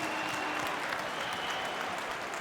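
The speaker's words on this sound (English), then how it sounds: "Ben Hunt there applauding his team's goal line defence" Crowd applause at a rugby league match after a goal line defence, a dense steady clatter of clapping from a distant stadium audience with no clear voices.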